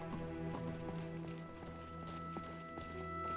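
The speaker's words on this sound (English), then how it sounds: "Horses. All day long." Faint horse hoofbeats clop at a steady walking pace beneath a humming, tonal game background, with no voices, in The Elder Scrolls V: Skyrim Special Edition.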